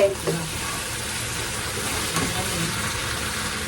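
Spice paste sizzles and fries in a pan in a constant, even hiss from start to finish, with a couple of soft knocks early on and a low background rumble.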